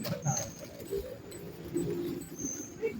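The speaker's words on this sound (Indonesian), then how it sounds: "Mungkin itu suara burung punai." Soft, low cooing calls of a green pigeon repeat faintly against a quiet outdoor background.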